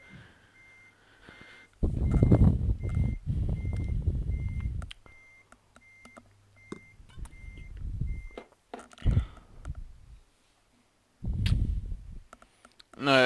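Reversing beeps from a truck in Euro Truck Simulator 2 multiplayer, a steady run of evenly spaced electronic beeps under intermittent speech, with the talk dropping away partway through.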